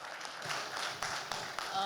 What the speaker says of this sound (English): we really have to give him a round of applause for this question.